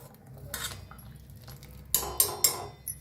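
Egg curry in a pan being stirred, a few sharp metallic scrapes and clinks of the spoon against the pan in quick succession near the end, over a quiet kitchen background.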